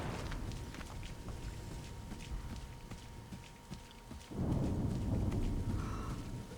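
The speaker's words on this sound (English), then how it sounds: "Oh, thunderstorm." A thunderstorm with steady rain in the Assassin's Creed III video game, low rumbling that swells louder partway through as the downpour intensifies.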